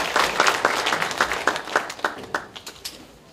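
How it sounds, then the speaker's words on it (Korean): Audience applause at a Democratic Party convention in Ulsan, a steady patter of many hands clapping that swells in waves and slowly fades, no voices over it. "이 두 명의 후보들께도 아낌없는 박수를 부탁드립니다."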